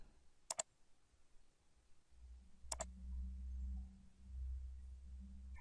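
A computer mouse gives two sharp double clicks a couple of seconds apart, crisp and close, over a faint low hum from the machine.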